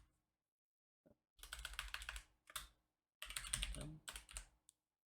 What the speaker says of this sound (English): just type out import and then random